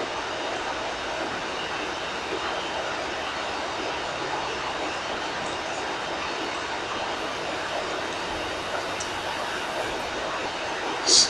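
Airplane engine in the video game Saints Row 3, a steady loud broadband roar that drones without letup, with a brief louder burst near the end.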